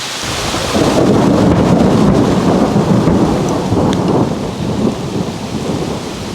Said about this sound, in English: We've got hail. It's freaking pouring.